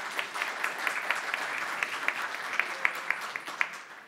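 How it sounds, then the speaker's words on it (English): A summit audience gives a round of applause, a dense even patter of many hands clapping, moderately loud with a few sharper claps standing out, no voices. "Now you can make a round of applause to yourselves."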